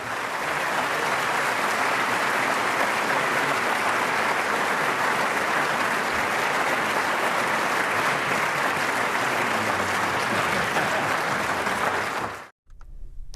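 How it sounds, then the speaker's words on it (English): Sustained applause from a large audience, a steady dense wash of clapping that goes on for about twelve seconds before stopping abruptly. "A nice round of applause for our candidates today."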